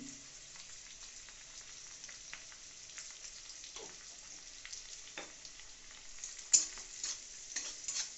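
Quiet, steady sizzling of onions frying in a pan, with occasional soft scrapes and clinks of stirring.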